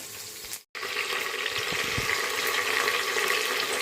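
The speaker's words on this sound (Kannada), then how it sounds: "ಚಕ್ಕೆ ಲವಂಗ ಇದು ಸ್ವಲ್ಪ ಫ್ರೈ ಆಗಲಿ" Cinnamon and cloves frying in oil in a pan give a close, continuous sizzling hiss, briefly cut by a moment of silence, with a few soft stirring knocks. No one speaks.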